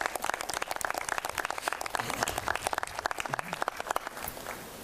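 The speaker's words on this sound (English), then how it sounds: "They deserve a round of applause." A crowd applauds steadily, dense overlapping claps at moderate volume that taper slightly toward the end.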